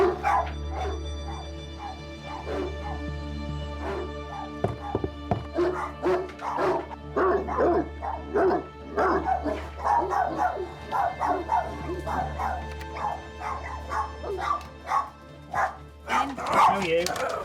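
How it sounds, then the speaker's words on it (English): A dog barks and yips repeatedly, with whimpering in between, while people talk nearby over a low background hum. "I can hear the dog from here."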